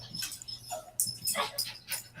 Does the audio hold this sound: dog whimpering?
yes